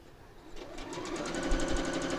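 A sewing machine stitches a quilt block for a nine patch quilt, running slowly over a pin and then settling into a steady, close, rapid rhythmic whir of needle strokes.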